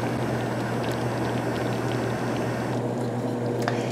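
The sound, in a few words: pumpkin jam simmering in a pot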